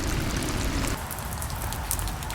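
Heavy rain in a wooded area beside a riverbank during a thunderstorm, a dense, steady hiss of drops pattering on leaves and surfaces, loud and close throughout with no break.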